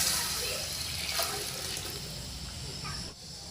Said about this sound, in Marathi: ते पाणी ह्याच्यामध्ये घालायचं.